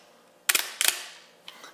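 Pentax 67 medium format camera shutter firing at 1/4 second: two sharp mechanical clacks about a third of a second apart, then a fainter click, close and alone.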